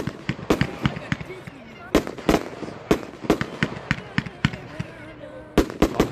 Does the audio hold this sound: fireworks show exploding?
yes